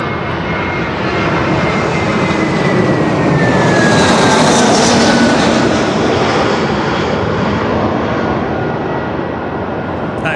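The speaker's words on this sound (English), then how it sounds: "As Jetstar 708 comes overhead, coming in from Hobart, down in Tassie." A Jetstar airliner, flight 708 inbound from Hobart, passes overhead on approach to Melbourne Airport. Its loud, continuous jet roar swells toward the middle and carries a thin engine whine, with no talking.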